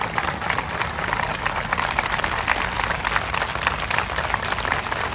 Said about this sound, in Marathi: मला वाटतं टाळ्या संपल्या नाही पाहिजे.